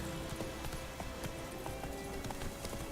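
Geralt's horse Roach galloping in The Witcher 3: Wild Hunt, a quick steady clip-clop of hooves over a loud continuous game ambience and wind, moderately near.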